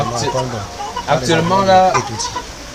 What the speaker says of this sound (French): actuellement là nous apercevons les poulets Brahma ici là derrière. Et ils sont nombreux.